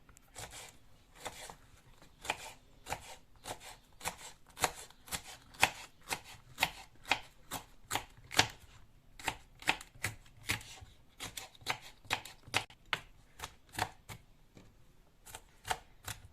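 A knife chops a pepper steadily on a cutting board, a long run of quick, crisp taps at a close, even rhythm with no talking.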